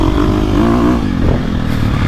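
A KTM 450 Factory Edition dirt bike is run at maximum throttle on dry hard-pack, its engine revving loudly and close for a couple of seconds.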